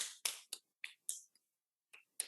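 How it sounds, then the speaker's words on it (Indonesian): A hand pats the body after oil has been rubbed on, giving about eight sharp, dry slaps in an irregular rhythm with short silences between them, close and alone. "Seluruh tubuh saya tepuk-tepuk begini."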